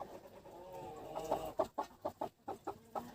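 Young first-year broody hen settling onto turkey eggs gives a series of soft, rhythmic low clucks, close but fairly quiet, about ten in quick succession with no talking.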